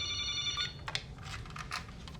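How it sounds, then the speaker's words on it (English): A phone in a London hotel suite rings with a short electronic ringtone, a few tonal chirps followed by faint clicks, fairly quiet and close. "Oh, my phone."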